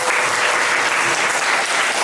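A church congregation at a worship service during a retreat claps in dense, sustained applause that stays loud and even from start to finish.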